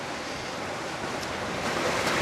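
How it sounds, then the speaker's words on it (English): Broadband ocean surf and wash around a sailboat offshore in rough seas with strong wind, a steady, continuous rush with slight swells in loudness and no voices. "there's some bigger waves here, so we're getting thrown around a little bit"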